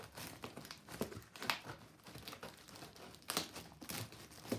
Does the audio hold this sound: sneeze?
no